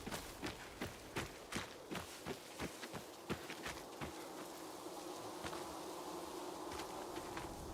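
A faint, steady buzz of bees swarming around a honey-filled hive in Dying Light 2 Stay Human, with a run of soft rhythmic thuds at the start and no talk.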